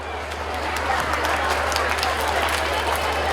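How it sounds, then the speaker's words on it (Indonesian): Applause for children from Aceh after their performance at a national gathering in Bireuen, a broad crowd clapping sound with a steady low hum beneath and voices mixed in. "Tepuk tangan kepada anak kami"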